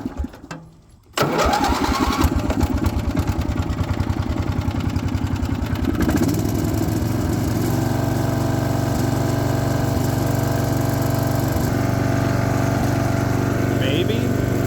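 Wheel Horse 211-5 lawn tractor that sat for years, with a manual choke, cranks briefly and catches, then runs steadily at a loud, close, even idle that continues to the end.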